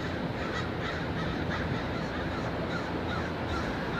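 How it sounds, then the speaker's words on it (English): Crows caw over downtown Portland, Oregon, a dense flock calling again and again against a steady wash of city noise, loud and close throughout with no talk. "There's so many crows."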